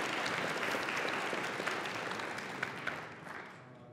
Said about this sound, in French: Oui, vous pouvez l'applaudir, bien sûr.